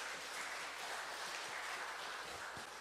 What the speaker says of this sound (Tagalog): Palakpak nga tayo dyan para gising-gising.